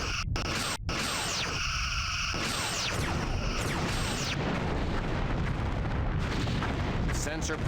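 A sensor post explodes in the Star Trek Bridge Commander game, a loud rumbling blast with a roaring noisy tail that follows weapon fire, with a voice speaking partway through.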